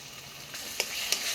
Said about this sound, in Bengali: দিয়ে ভালো করে নাড়াচাড়া দিয়ে মশলার সাথে টমেটোটাকে কষিয়ে নেব